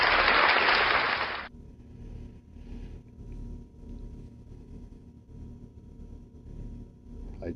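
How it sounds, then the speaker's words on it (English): A short burst of loud crowd applause at a BrokerLink Mixed Doubles curling provincial championship in New Brunswick cuts off after about a second and a half, leaving a low, steady arena rumble. "we're going to give it an applause either way."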